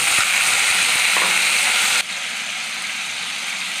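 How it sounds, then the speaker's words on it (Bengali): A paste of ginger, garlic, onion and tomato sizzling in leftover frying oil, a loud continuous hiss that suddenly drops halfway through and settles into a quieter, steady sizzle, with no talking. "ওই ভাজার তেলের মধ্যেই আমি আদা, রসুন, পেঁয়াজ, টমেটোর পেস্ট বানিয়েছিলাম, এটা দিয়ে দেবো।"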